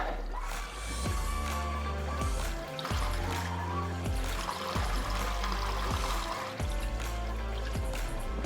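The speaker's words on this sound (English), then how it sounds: "When you do turn them on, just turn them on slowly in case there's any air in there, the water will splutter out" Water splutters and gushes from a kitchen tap with air in the pipe, in uneven bursts, with repeated thumps and gurgles as air escapes.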